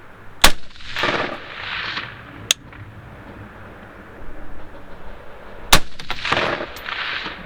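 A Bushmaster ACR DMR rifle fires 55-grain 5.56 rounds at long range outdoors, with three sharp, loud cracks spaced a few seconds apart over wind noise and rustling.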